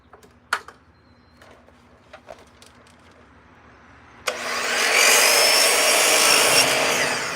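Saw cutting through Azek molded PVC trim during kitchen and bathroom trim installation, a loud sustained broadband whine starting abruptly midway after a few light taps and knocks.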